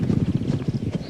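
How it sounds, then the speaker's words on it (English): Racehorses galloping on the training gallops, a rapid, steady drumming of hooves close by, with no voices over it. "Out on the gallops, the Queen has a chance to see her horses working"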